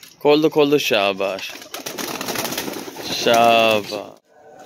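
A pet pigeon from a small home mini zoo coos nearby while someone talks over and between its low, soft calls.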